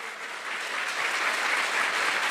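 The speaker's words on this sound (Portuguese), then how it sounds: "Vamos dar uma salva de palmas para Jesus." Steady applause from a church congregation, a dense wash of clapping that holds evenly throughout without any voices.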